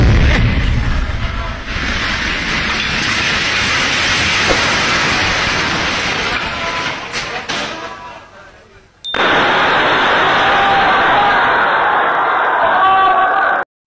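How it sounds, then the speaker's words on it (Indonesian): A very loud explosion strikes during a religious gathering at a mosque in Jepara, Central Java, Indonesia. It comes as a sudden, sharp blast partway through, then a sustained roaring, hissing noise amid crowd sounds. "Jamaah masjid dikagetkan suara ledakan yang sangat keras."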